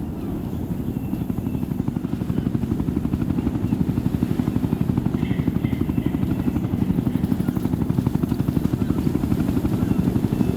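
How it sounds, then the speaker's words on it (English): Enemy helicopter in the video game Ghost Recon Future Soldier, a steady, loud rotor thrum with rapid blade chop holding throughout, continuous and close, with no talk over it. "If that chopper spots us, it'll get messy real fast. Moving. Hostiles have a chopper."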